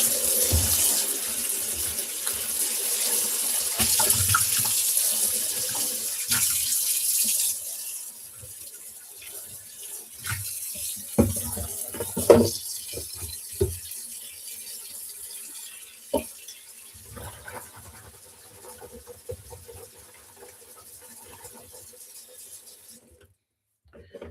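Tap water runs into a kitchen sink while dishes are washed, a steady broadband rush that cuts out partway, followed by scattered clinks and splashes and occasional quiet speech.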